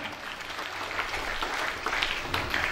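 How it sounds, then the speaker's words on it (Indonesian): An audience at a kung fu gathering for a belt promotion test applauds, giving a dense, even wash of clapping that holds steady throughout. "Mari kita tepuk tangan dulu buat adik kami sekalian"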